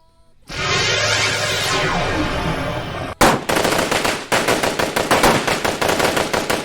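Loud, sustained machine gun fire roars for a few seconds, then breaks into rapid staccato bursts of automatic gunfire.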